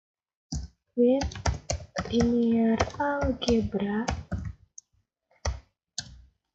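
Typing on a computer keyboard in the Maple math software produces scattered sharp clicks, some isolated near the end, while a person speaks clearly over most of the keystrokes.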